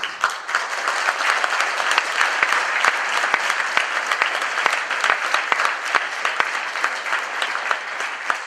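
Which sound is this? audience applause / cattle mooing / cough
audience applause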